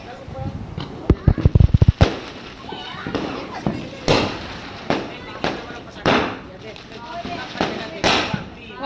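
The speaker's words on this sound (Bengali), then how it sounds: "চতুর্দিকে সবাই বাজি ফাটাচ্ছে" Firecrackers and fireworks burst during a Kali Puja night celebration: a quick cluster of sharp cracks, then scattered loud pops near and far, with voices and children in the background.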